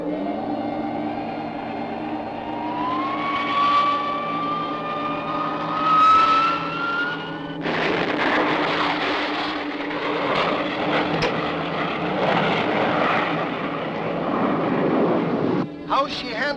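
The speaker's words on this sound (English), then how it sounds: "Torres, take the controls and stand by to launch the dart" Film spacecraft called the dart launching, a rising whine of engine pitch over a steady rumble that breaks into a loud, broad roar, which continues under faint voices before cutting off near the end.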